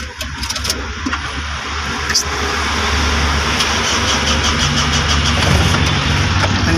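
The wiper motor of a Mitsubishi L300, being tested after conversion, runs with a steady mechanical whirring hum that builds after about two seconds and holds close and loud, with no talking.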